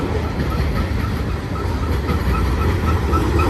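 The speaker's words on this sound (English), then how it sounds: "Got a horn salute." A Union Pacific manifest freight train rolls loudly past at Cajon Pass with a deep continuous rumble and wheel clatter, with faint horn tones sounding over the steady roar and no clear talk.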